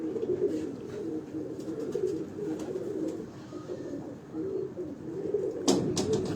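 Pigeons coo steadily on a Lahore rooftop loft, a continuous low, soft murmur from several birds close by, with a brief louder rustle near the end.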